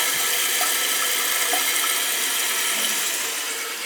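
A toilet flushes with its handle held down, giving a steady, loud rush of water that runs unbroken for several seconds.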